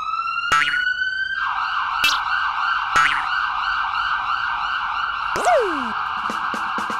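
A loud wailing police siren cycles steadily for several seconds, with sharp electronic whoops and yelps cutting in, close and continuous.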